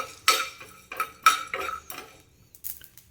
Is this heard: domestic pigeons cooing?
no